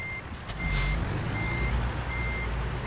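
A truck in the American Truck Simulator driving game sounds steady, evenly spaced reversing beeps over a low engine rumble, with a brief burst of air noise near the start.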